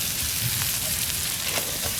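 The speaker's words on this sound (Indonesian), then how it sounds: "Sekarang gue menceburin bumbunya biar kita balado" Balado chili spice paste frying in a pan gives a steady, dense sizzle, with faint scrapes and stirring knocks from a spoon running through it at close range.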